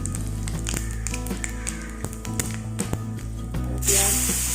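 Panch phoron spices sizzling in hot oil for a fish curry with pointed gourd, a steady close hiss and crackle with small pops that swells into a louder burst of sizzle near the end.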